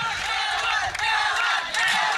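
A large village crowd cheering and shouting for cricketer Pawan Kene in Arnala, Bhiwandi, a dense continuous roar of voices with clapping, loud and sustained with a brief dip midway.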